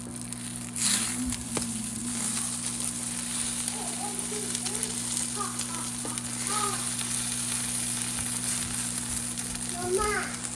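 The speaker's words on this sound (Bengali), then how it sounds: "ডিম ভাজা হচ্ছে।" Two eggs with chili sizzle steadily as they fry in a pan, a continuous close crackle with small pops, running over a constant low hum throughout.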